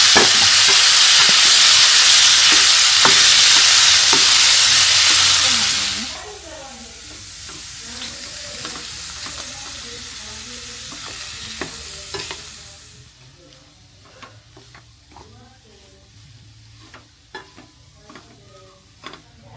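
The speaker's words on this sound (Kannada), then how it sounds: "ಇವಾಗ ಬಾಯ್ಲ್ ಮಾಡ್ಕೊಂಡಿರುವಂಥ ಆಲೂಗಡ್ಡೆ ಆ್ಯಡ್ ಮಾಡ್ಕೊಳ್ತಾ ಇದ್ದೀನಿ." Boiled potatoes go into a hot pan with a loud, hissing sizzle for several seconds, then the frying quiets and a spoon scrapes and stirs them in repeated clinks and scrapes.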